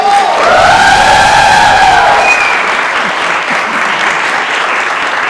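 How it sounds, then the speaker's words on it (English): A studio audience greets actress Rani Mukerji with loud sustained applause and cheering, dense clapping filling the room with a few whoops riding on top. "Could you please give a big round of applause to Rani?"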